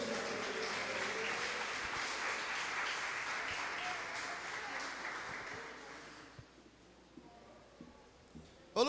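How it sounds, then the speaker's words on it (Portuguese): Church congregation on its feet applauding the name of Jesus, a dense sustained wash of clapping that fades out after about six seconds, leaving quiet room tone and a few faint sounds. "se coloca de pé aplaudindo o nome do Senhor Jesus"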